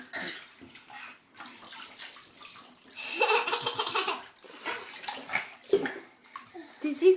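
Water splashing and sloshing in a bathtub during a child's bath with toys, with bursts of splashes under a child's chatter, adult talk and laughter throughout.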